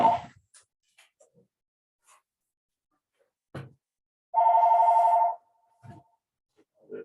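A telephone rings once in a quiet lecture room, a single steady electronic burst lasting under a second amid scattered faint desk noises, with no talk over it.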